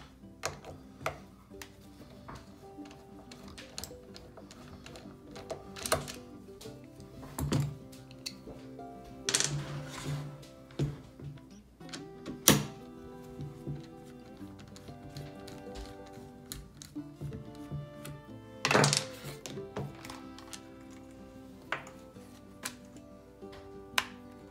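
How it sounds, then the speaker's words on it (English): Small clicks, taps and metallic ticks while a Ruger 10/22 rifle is taken apart, sparse, quiet handling noises spread irregularly over a soft background hum. "So first step is to disassemble the gun."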